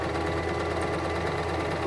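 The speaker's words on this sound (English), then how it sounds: "I'm just sewing right along the fold" A Singer 1234 sewing machine stitching along the fold of a tote bag lining, a steady, even motor hum with a rapid needle chatter running continuously and close by, no voices.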